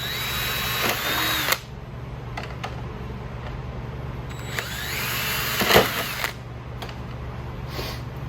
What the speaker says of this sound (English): Just go ahead and drill a couple of holes.